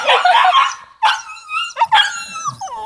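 Alabai (Central Asian Shepherd) puppy barking in a kennel, a burst of high, yappy barks and yips up close, ending in whiny, whimpering yelps.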